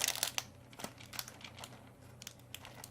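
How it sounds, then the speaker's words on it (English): Soft crinkling and crumpling comes in short, quiet bursts close by, like a plastic bag being handled, against a faint low hum. "you have to hear that crinkling"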